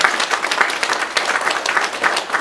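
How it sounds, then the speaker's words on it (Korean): A church audience bursts into sustained applause, a dense, even patter of many hands clapping throughout without pause. "이제 박수로 하는 것 같아요"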